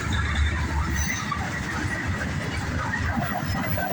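A northbound CSX freight train passes close by, its deep steady rumble and wheel clatter continuous and loud from start to finish, with no voices.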